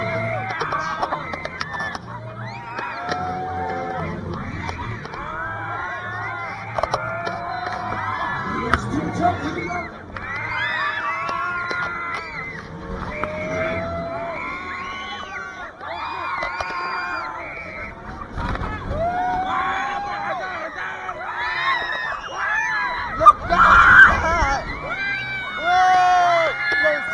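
Riders on the XXL fairground ride at Hyde Park Winter Wonderland scream and shout continuously in a noisy, close mix, with voices talking over the din.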